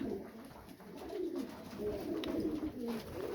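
Fancy pigeons in a loft give soft, low rolling coos, a continuous murmuring from several birds nearby, faint and without talk.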